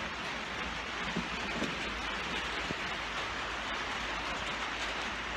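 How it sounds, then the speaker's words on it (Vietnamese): Steady rain falling outdoors, a dense continuous hiss of drops at even loudness with occasional faint taps, no talking. "Mưa mất rồi."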